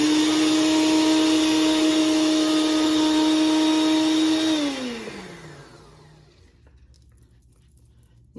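A bullet-style personal blender whirs loudly and steadily as it blends a cinnamon roll protein shake, then winds down with a falling pitch and cuts off, leaving near silence.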